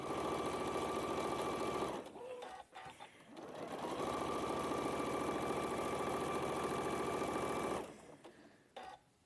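A sewing machine run steadily by a trapped foot pedal stitches fabric blocks together, whirring continuously for about two seconds, pausing, then running a long steady stretch before stopping.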